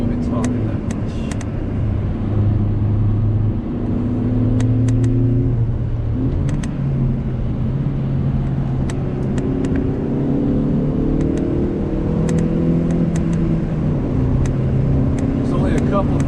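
A 2023 Kia Forte GT with a six-speed manual driven hard on a twisty road, its engine droning and rising and falling in pitch through gear changes, heard steadily from inside the cabin, with occasional clicks.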